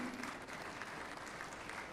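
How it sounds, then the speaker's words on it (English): Audience at an IEEE international conference on sustainable AI applauds the chief guest, a senior TCS scientist, with steady, dense clapping that fills the full two seconds at an even level. "Please put a round of applause for him."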